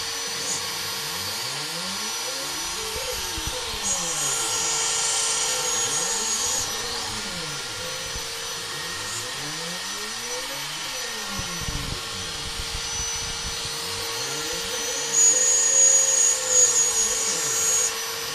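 CNC machine with a double router modification runs steadily, giving a loud continuous whine and roar with slow, rhythmic sweeping tonal swells as the spindles move, and a brief louder surge near the end.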